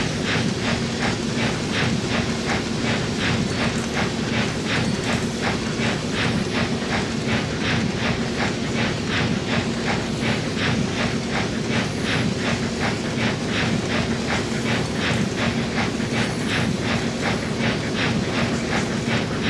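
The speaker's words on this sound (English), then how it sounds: "You've managed to get the steam train chugging along nicely." A steam locomotive on the Denver Steam Run in Trainz Simulator chugs in a steady rapid rhythm of exhaust beats, with continuous hiss and rumbling rail noise underneath, loud and even throughout with no talking.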